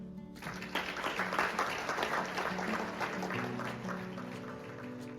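Sustained audience applause, dense and steady, filling a room at a special screening honoring volunteer responders' families, with steady claps continuing throughout.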